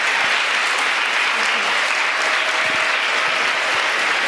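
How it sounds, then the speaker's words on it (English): Audience at a Fordham University event gives a dense, sustained round of applause, loud and even from start to finish with faint voices underneath. "So can we give a hand clap to these guys over here?"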